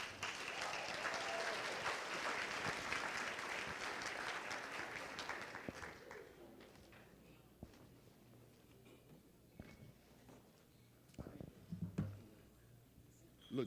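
Audience applause at a tribute dinner, full at first and then thinning after about six seconds to scattered claps and murmurs, with faint talk near the end.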